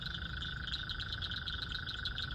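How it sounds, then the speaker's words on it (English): A chorus of bullfrogs croaks in a steady, pulsing trill that overlaps continuously, fairly distant against an outdoor background with no voices. "Found quite a few frogs."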